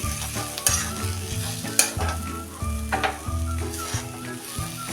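Pithla with grated coconut and coriander stirred in a pan, a close, rhythmic scraping of a spoon against the pan in repeated strokes over a low sizzle.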